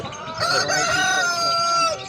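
A rooster crows loudly and close by at the Edirnekapı poultry market, one long drawn-out call lasting about two seconds.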